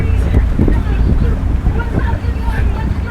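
Strong headwind buffets the microphone with a loud, continuous rumble over water during a lightweight men's rowing race, while voices talk faintly underneath.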